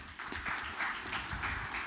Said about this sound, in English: Ladies and gentlemen, a round of applause for Shri Anand Rajput.